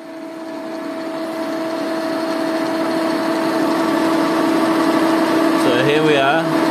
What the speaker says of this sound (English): I'm going to chuck that in the mill, and then I'll machine that balance port into the back of it